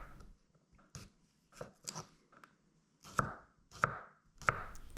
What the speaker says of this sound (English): Just got to keep on chopping.